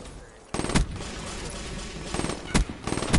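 Gunfire in the video game Black Ops 3 comes in close, loud rapid bursts of automatic shots separated by short pauses.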